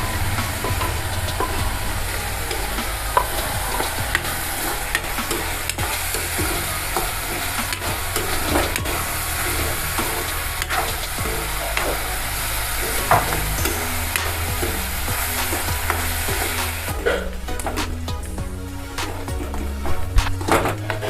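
Onion frying in a pan over raised gas heat, with garlic tossed in, gives a steady close sizzle throughout, broken by frequent scraping stir strokes and a few sharper clatters near the end; no voices.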